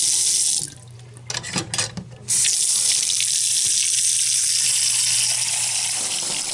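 Water gushes loudly from a newly installed sink faucet, sputtering in bursts at first as trapped air blows out of the drained lines, then settling into a steady, continuous close rush.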